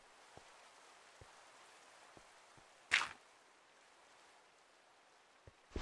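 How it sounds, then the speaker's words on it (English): Rain in the Minecraft video game makes a faint, steady hiss with scattered soft drip ticks and one brief, sharper burst partway through. "It's raining."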